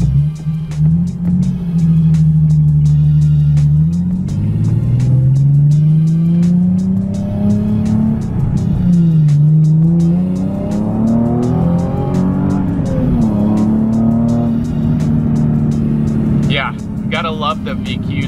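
A Nissan with a VQ engine revs hard through a pull, its loud, close engine note climbing steadily through gears with brief dips at shifts, and tire noise near the end.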